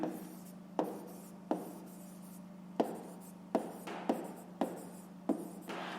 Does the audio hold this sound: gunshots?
no